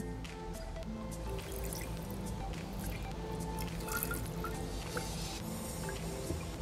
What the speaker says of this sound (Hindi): अब इसमें हम थोड़ा सा पानी डाल के